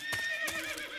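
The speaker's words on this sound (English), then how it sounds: "Oh, there's the horse." A horse in Metal Gear Solid 3 whinnies in two loud, close, wavering bursts about a third of a second apart, the second trailing off into a long, falling neigh with no talk over it.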